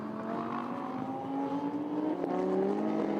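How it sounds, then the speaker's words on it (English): McLaren GT race cars lap the Paul Ricard circuit, a continuous loud engine drone that rises in pitch as the cars accelerate, with a second car's note overlapping near the end. "the Teo Martin Motorsport McLarens are both beginning to wind up into flying laps"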